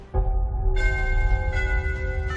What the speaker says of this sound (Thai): ตัวนี้มันเป็นกระดิ่งกลางหมู่บ้านนะคะ